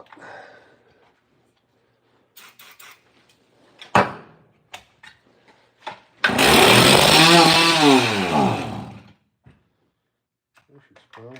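A Stihl chainsaw roars to life after several pull-start thumps and clunks, running loudly up close for about three seconds with rising and falling revs, then cutting out; someone speaks briefly before it starts.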